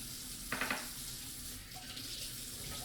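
Filtered water runs steadily from a tap into a container for a sourdough starter, a constant faint hiss with a brief splashy burst early on.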